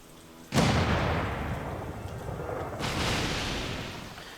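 Cannon bombardment in a Napoleonic-era strategy game: a sudden deep boom with a long rumbling decay, then a second heavy blast that also rolls away, with no talk over them.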